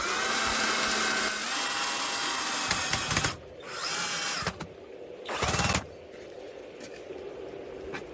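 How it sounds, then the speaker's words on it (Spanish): Power drill driving a screw into a wooden board for a garden bed, a loud sustained whine that cuts off, followed by two shorter bursts and a quieter background hum. "Voy a poner mi otro tornillo."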